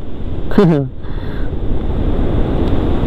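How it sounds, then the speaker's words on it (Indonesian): Strong ocean surf at Canggu beach, Bali, roars as a steady, loud wash of wind-blown waves, broken only by a brief voice near the start. "Waduh, ombaknya kencang sekali itu"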